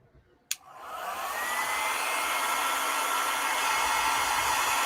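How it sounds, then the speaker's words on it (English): A click, then a hair dryer spins up into a loud, steady airy whoosh that continues unbroken to the end. "I'm using my hair dryer."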